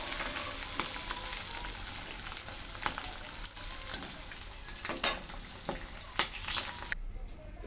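Eggs fry lightly in hot oil with a steady, dense crackling sizzle, close and continuous, punctuated by a few sharper pops before it cuts off abruptly near the end.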